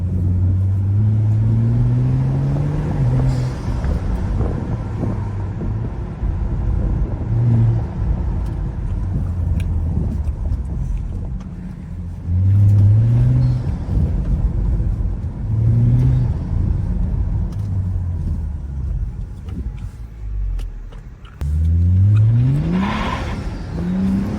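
A BMW with an N55 turbocharged straight-six, rear-wheel drive, revs hard while driving, low engine drone rising through repeated climbing pulls and upshifts with brief drops between, steady and fairly loud from inside the car, no talking.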